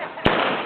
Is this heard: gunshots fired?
yes